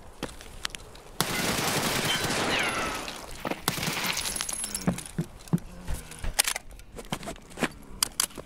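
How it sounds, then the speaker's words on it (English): Shotgun fire in Escape From Tarkov: a dense stretch of loud blasts and rattling shots early on, followed by scattered sharp single reports and clattering, close and punchy. "That was a lot of shotgun."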